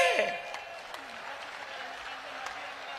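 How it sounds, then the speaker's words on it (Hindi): Audience applause at the closing gathering of a Sanatan Hindu unity march swells briefly at the start, then continues as a softer patter of scattered claps. "यदि आपको अनुकूल हो तो ठीक से ताली बजाइए"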